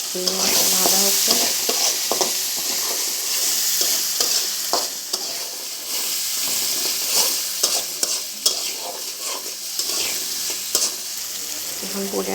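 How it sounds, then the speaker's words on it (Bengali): Prawns frying in a pan with cumin powder for a sweet pumpkin curry, a steady close sizzle with frequent scraping stirs and clinks of the spatula throughout, no talking. "চিংড়ি মাছটা ভাজা হচ্ছে"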